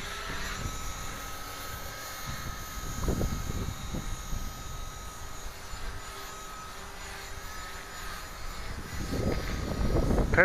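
A Tarot ZYX-S flybarless RC helicopter flies rolls and flips in a strong crosswind. Its rotor and motor whine is distant, swelling and fading through the maneuvers, with wind noise across the microphone.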